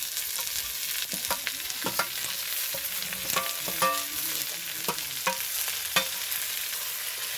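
Chopped capsicum, green chilli, cabbage and peas stir-fried in a pan for homemade chicken fried rice, a constant close sizzle with repeated sharp spatula scrapes and clicks, no talking.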